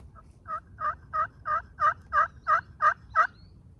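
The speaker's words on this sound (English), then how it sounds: "He gobbled." A wild turkey gobbling in a rapid run of about nine evenly spaced calls, clear and fairly near over a quiet outdoor background.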